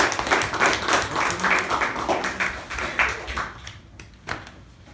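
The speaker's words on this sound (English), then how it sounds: "Ladies and gentlemen, welcoming with a big round of applause." A meeting audience gives a speaker a round of applause, brisk rhythmic clapping from a modest crowd that thins out and fades to a few last claps near the end.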